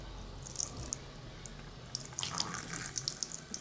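A salon basin tap runs at low pressure, giving a thin quiet trickle punctuated by irregular close splashes and drips as water hits a head being rinsed.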